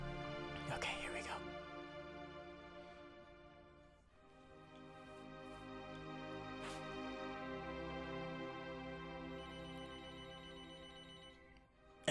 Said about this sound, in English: this phone just started ringing